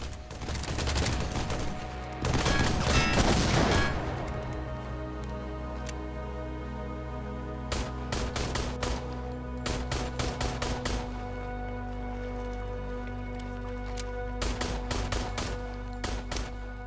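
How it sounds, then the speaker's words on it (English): Machine gun fire from a long-range enemy in an indie game trailer, heard as bursts of rapid shots: a heavy barrage early, then repeated short volleys over a steady low drone, fairly close, with no talking. "The optic is a long-range enemy that pins down the player with a machine gun"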